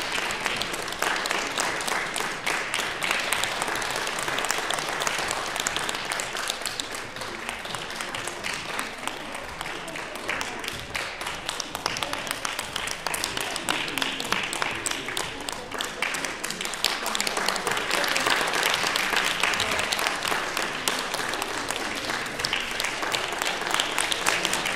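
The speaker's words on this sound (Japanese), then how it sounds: "今一度盛大な拍手をお願いいたします。" Sustained applause from an audience following a traditional Japanese dance stage performance at a music festival concert in Hiroshima, a steady dense clapping that holds for the whole stretch with a slight swell near the end.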